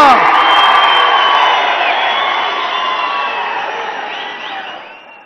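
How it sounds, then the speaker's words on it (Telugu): A large crowd at a public gathering from the Huzurnagar and Kodad constituencies stands to welcome Chief Minister Revanth Reddy. Loud, dense cheering, whoops and high whistles swell and then gradually fade over several seconds. "గౌరవ ముఖ్యమంత్రి రేవంత్ రెడ్డి గారికి స్వాగతం పలకడానికి అందరూ నిలబడి చప్పట్లు కొట్టాలని చెప్పి కోరుకుంటున్నా"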